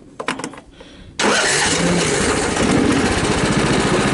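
A tractor engine on an estate catches and starts after a few sputtering turns, then settles into a loud, steady running idle close by.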